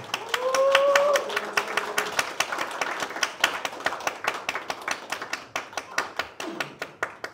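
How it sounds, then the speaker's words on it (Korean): An audience at a community general assembly claps to welcome accordion, ocarina and guitar performers, a short scattered round of applause that starts after a brief announcer's voice and thins into sparse individual claps. "큰 박수로 맞이해 주시기 바랍니다"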